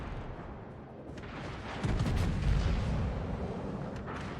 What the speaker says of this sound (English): that's 5 ships firing right at me, and they hurt a lot